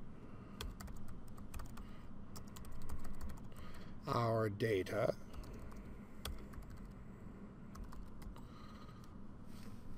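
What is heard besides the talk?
typing on a computer keyboard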